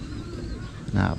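A pigeon-like bird coos on a farm keeping many animals, a soft low call rising near the end over a busy background with voices present.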